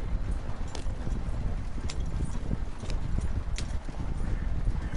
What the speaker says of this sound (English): one horse trying to tow this big ass wagon